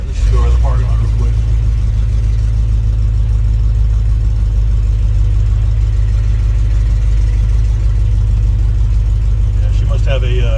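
A 1971 Ford F100 Sport Custom pickup's engine runs loud and steady while the truck drives slowly across a parking lot. Its low, constant drone fills the whole stretch, with faint voices briefly near the start and end.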